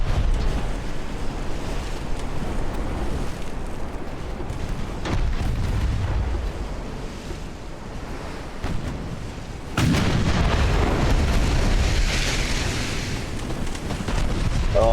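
Naval artillery fire in the Ultimate Admiral warship battle game: deep booming gun blasts and rumbling explosions over a constant low roar, with a heavy burst partway through, loud and dense.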